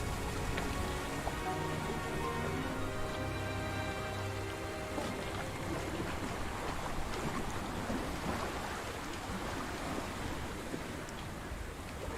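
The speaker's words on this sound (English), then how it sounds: "It's not raining that much. It's raining here, actually." Steady rain falls in a video game, an even hiss of drops hitting a surface that is moderately loud throughout, with some faint tonal background sounds early on.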